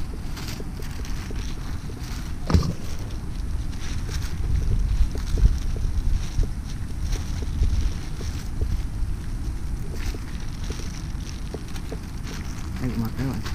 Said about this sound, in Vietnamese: Đây là gió quá gió.